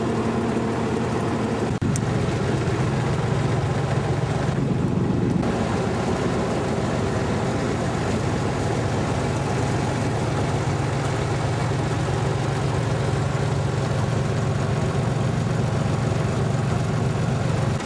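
A red boat's engine idles on the water with a steady, continuous low drone that holds without a break, close and fairly loud, with no voices.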